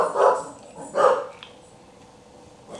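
Pet dogs indoors giving two sharp, close barks in quick succession, followed by a fainter yip and quiet room noise.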